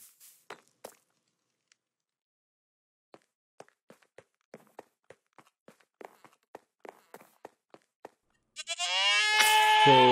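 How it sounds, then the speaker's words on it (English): Footsteps tap sparsely on blocks in Minecraft, then near the end goats bleat loudly in a quick, wavering burst, all in an otherwise quiet setting. "the final piece of this puzzle is to move these noisy goats out of here and into their new home"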